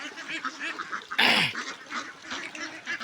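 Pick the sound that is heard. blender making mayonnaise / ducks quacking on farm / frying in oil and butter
ducks quacking on farm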